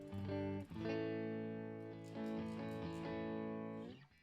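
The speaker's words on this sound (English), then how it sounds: "This is our clean guitar sound." A clean electric guitar plays sustained chords through an amp, ringing clearly with a few chord changes and a soft fade at the end.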